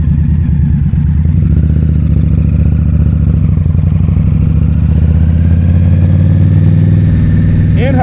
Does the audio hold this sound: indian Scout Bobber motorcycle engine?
yes